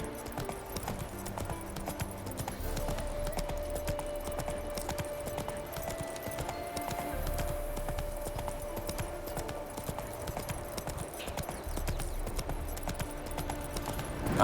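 Steady rhythmic clip-clop of horse hooves in The Witcher 3: Hearts of Stone continues throughout, moderately loud, over a faint background hum.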